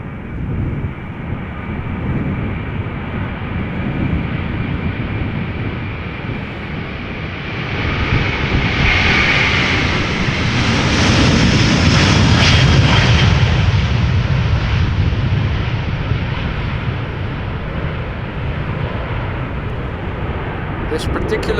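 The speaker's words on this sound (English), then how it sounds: "Delta Airlines, flight 259 going to Boston, Massachusetts, A330-300." A Delta Airlines Airbus A330-300 jet departs Amsterdam Schiphol with a loud, sustained engine roar that swells toward the middle and then holds, a broad rumble with a rising whine.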